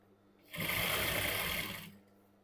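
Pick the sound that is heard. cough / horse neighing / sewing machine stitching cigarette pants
sewing machine stitching cigarette pants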